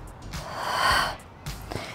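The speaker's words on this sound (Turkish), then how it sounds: "Nefes aldım." Heavy exertion breathing during a lower-belly ab workout, a loud close inhale swelling and fading, followed by quicker sharp breaths and snorts, with no speech over it.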